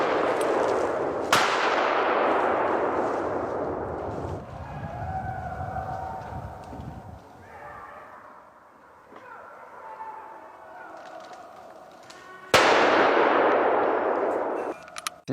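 Two sharp, loud shots from a semi-automatic hunting rifle about eleven seconds apart, each ringing out with a long decaying echo, with quieter background noise in between.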